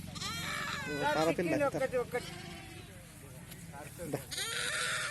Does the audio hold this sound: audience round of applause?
no